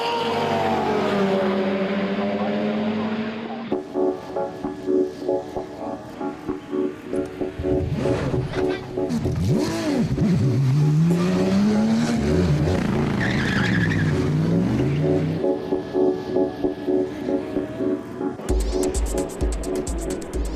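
Race cars at night in the 24 Hours of Nürburgring, including a Subaru Impreza leading the SP3T class: loud engines rising and falling through gears, passing close by, with tire squeal and skidding between bursts.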